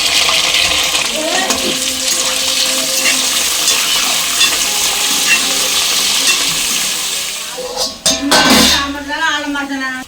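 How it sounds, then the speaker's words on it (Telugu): Chopped green chili, potato, tomato, onion and carrot sizzle and fry in a pan while being stirred, a steady crackle with scraping stirs near the end. "ఇప్పుడు వెజిటేబుల్స్ వేసేసుకున్నాము పచ్చిమిర్చి బంగాళదుంప టమోటా ఉల్లిపాయ క్యారెట్ ముక్కలు వేసేసుకుని"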